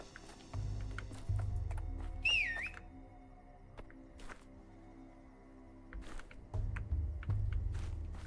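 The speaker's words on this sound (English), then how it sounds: "Who whistled?" A short, rising-and-falling two-note whistle rings out in the horror game Pathologic 3, clear above low ambient rumble and occasional footstep-like thumps, then fades away.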